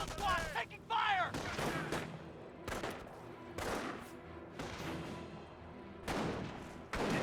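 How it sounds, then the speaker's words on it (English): Repeated bursts of gunfire and heavier artillery-like blasts in a Company of Heroes 1 World War II battle, loud and irregular across the whole stretch, with a brief whistling sweep near the start. "Rifle squad taking fire."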